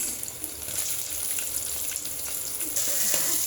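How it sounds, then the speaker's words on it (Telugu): Cashews and onions fry in oil in a pan with ginger and garlic, a constant bright hissing sizzle that grows a little louder near the end, nearby and uninterrupted. "ఇప్పుడు క్యాషు, ఆనియన్స్ అన్నీ వేయించుకుందామండి"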